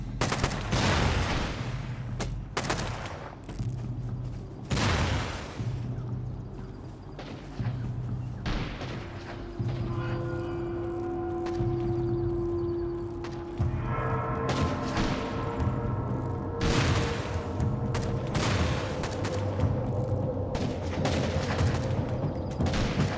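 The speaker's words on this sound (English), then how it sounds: "They are exchanging rocket fire here, both sides." Rockets fired back and forth in a nighttime exchange, loud repeated booms and cracking bursts in an irregular rhythm over a constant rumbling background, with a sustained whistling tone partway through.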